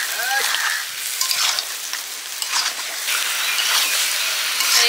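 Duck meat frying in a pan with potato, onion, ginger, garlic and ground spices, cooked during a cyclone, gives a steady, close hiss and crackle of hot oil that runs unbroken throughout.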